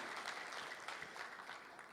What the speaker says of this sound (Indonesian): kami mengajak seluruh hadirin untuk memberikan tepuk tangan yang luar biasa pada pelaksanaan